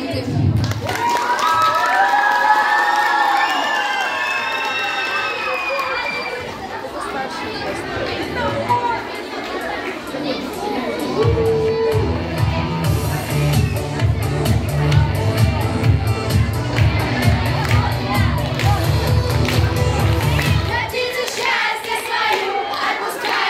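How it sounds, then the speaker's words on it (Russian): An audience at a children's summer camp stage show claps and cheers, with lively crowd chatter and high excited voices at first, then sustained clapping and hubbub for most of the stretch. "Аплодисменты."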